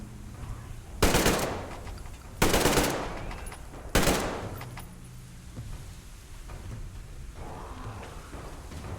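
Gunfire in the video game Metro Exodus: three loud, sharp shot bursts about a second and a half apart, each with a short decaying tail, followed by quieter ambient game sound.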